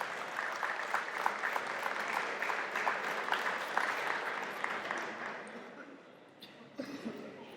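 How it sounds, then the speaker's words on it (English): Applause for high school athletes at a school athletic awards event, a large audience clapping steadily for several seconds in a hall, then fading out with a few scattered claps. "Give them one last round of applause."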